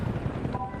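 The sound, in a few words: AH-1 Cobra attack helicopter in World of Tanks 2.0 video game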